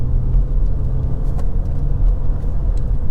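A car engine rumbles loud and close from inside the cabin, a continuous low drone as it accelerates through first and second gear, with no talking.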